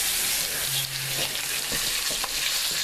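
Tap water hitting a hot pot of searing pot roast, producing loud, close, steady frying sizzle and crackle with a brief hum underneath.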